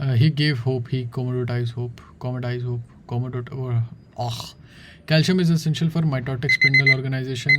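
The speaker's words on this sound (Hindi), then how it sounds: "अगर तुम्हें ये आवाज़ सुनाई दे रही है तो मेरा टाइमर ख़त्म हो गया" A timer alarm rings repeatedly under someone talking continuously during a biology lesson, its electronic tone partly masked by his speech.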